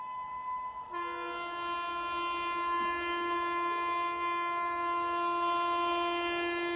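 A high-speed Indian train led by a WAP-7 electric locomotive sounds a long, loud, steady horn, a single sustained blast that holds for several seconds as it passes close by.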